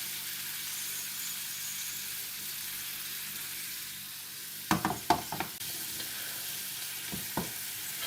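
Part-boiled carrots in a honey glaze sizzle steadily in a pan. Midway a utensil stirs them, giving a short burst of scraping clatter before the quiet frying resumes.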